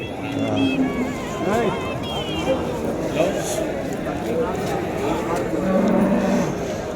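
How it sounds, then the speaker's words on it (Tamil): Jersey and crossbred cattle at a busy livestock market, lowing repeatedly over constant crowd chatter and background noise, with people talking throughout. "எல்லாம் ஜெர்சி மாடுங்க சின மாடுங்க எல்லாமே"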